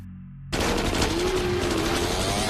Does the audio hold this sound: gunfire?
yes